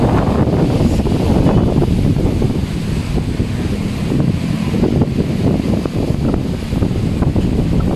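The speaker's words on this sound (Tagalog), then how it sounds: "Sobrang lakas ng hangin." Loud typhoon wind roaring and buffeting continuously, with heavy low rumbling gusts and no voices.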